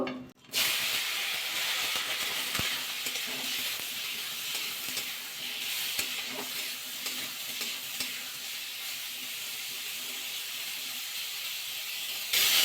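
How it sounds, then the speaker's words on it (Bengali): Cauliflower florets seasoned with salt and turmeric fry in hot oil with a steady, close sizzle and occasional stirring scrapes, loud and continuous throughout with no talking. "ফুলকপিগুলো ভাজা করে নেবো"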